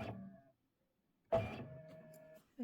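Embroidery sewing machine stepping backward through stitches, giving two short quiet motorized whirs with a steady whine, separated by a brief silence, heard close with no talk.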